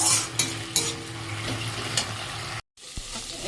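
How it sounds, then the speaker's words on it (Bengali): Leafy greens sizzle loudly in a pan with salt, sugar, green chili and garlic, a dense continuous frying hiss with occasional spatula scrapes before a sudden brief cutoff. "এই শাকটা ভাজা হচ্ছে, নুন, চিনি, কাঁচা লঙ্কা আর রসুন দিয়ে"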